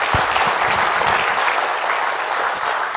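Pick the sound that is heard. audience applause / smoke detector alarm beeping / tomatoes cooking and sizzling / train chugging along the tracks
audience applause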